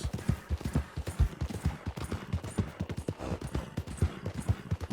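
Horse hooves in Red Dead Online, a rapid, steady clip-clop of galloping close by, running continuously with no talk.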